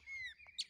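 A black bird sings a short, bright phrase: a thin whistled note followed by a sharp high chirp, fairly close in a quiet setting near Lago Corumbá 4, Goiás, Brazil.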